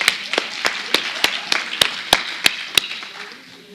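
Sharp, evenly spaced hand claps ring out at a conference, about three each second, crisp and fairly close, gradually thinning out near the end.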